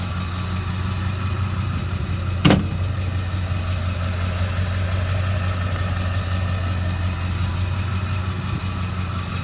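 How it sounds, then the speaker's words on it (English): A 2001 Ford F-350 Super Duty Crew Cab truck engine idles smoothly and steadily at close range, a constant low rumble with one brief sharp click partway through, no talking. "Truck idles very smooth."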